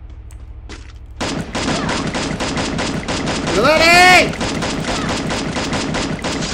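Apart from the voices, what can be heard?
gunfire from a video game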